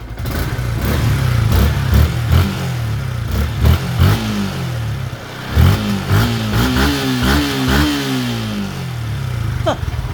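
A Yamaha Sniper 150 motorcycle engine, under wiring harness repair, idles and is revved repeatedly in close range, with rising and falling throttle blips over a steady rumbling idle.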